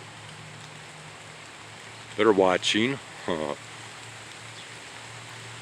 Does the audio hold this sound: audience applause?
no